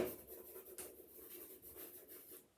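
A hand writes out a maths solution for a differential-equations exam exercise: soft, scratchy strokes of the writing tool, close and quiet, with small taps between strokes.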